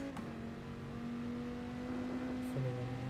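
A race car engine in GT Sport at the Nürburgring GP holds a steady high rev for a few seconds, then drops sharply in pitch as it shifts down, heard up close over faint background noise.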